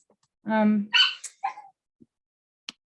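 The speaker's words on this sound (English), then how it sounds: "I'm sorry, my dogs are also barking." Indoor household dogs bark and yip close by in a few short bursts, with whimpering tones followed by faint isolated clicks.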